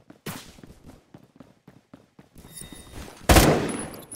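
Gunfire in a Roblox game comes as a quick run of light, evenly spaced shots, followed by a couple of louder, sharper blasts near the end.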